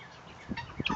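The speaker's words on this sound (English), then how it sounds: "Could be a guinea hen." Short clucking calls from a guinea hen in a backyard farm, two or three quick bursts near the end of an otherwise quiet second, fairly close.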